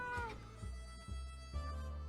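A cat in the 60 Seconds video game meows a few times in quick succession, soft and fairly faint over a steady background hum.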